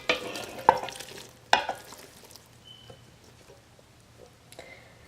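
A meat and cheese mixture is stirred in a pan with a few sharp scraping knocks at the start, then a faint low sizzle that fades quietly, with no talking.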